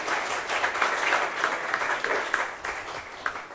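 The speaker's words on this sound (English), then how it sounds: "can we have a good round of applause for our inaugural panel?" An audience applauds the inaugural panel at the opening session of a conference, with dense, steady clapping throughout and a few brief sharper claps standing out near the end.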